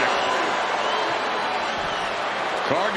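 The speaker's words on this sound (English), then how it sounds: "Cargill drawing a big reaction from the crowd" A wrestling arena crowd roars and cheers steadily throughout, a dense wall of loud, continuous noise with a brief swell near the end.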